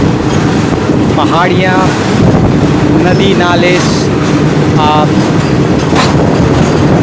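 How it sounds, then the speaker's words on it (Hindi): An Indian Railways train rumbles through the dense hills and jungle of Saranda, with loud continuous wheel and carriage noise close by; someone narrates over it throughout. "अगले डेस्टिनेशन की ओर बढ़ती हुई हमारी भारतीय रेल"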